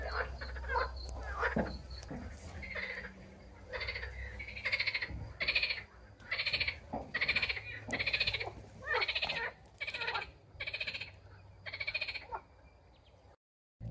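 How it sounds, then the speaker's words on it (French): A chorus of frogs croaking in a wetland in repeated rhythmic bursts, fairly close, with a low steady hum and faint background noise beneath. "ici on est dans l'espace d'observation des grenouilles et on les entend"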